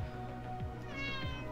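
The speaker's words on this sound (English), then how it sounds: "Meow!" A cat meows in the Sims 4 life-simulation game, with several drawn-out, wavering calls over a steady game background and no talking.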